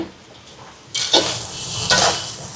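A spoon scrapes and stirs through a pot of brinjal and chicken curry, two close, scratchy passes over a soft sizzle with no talking.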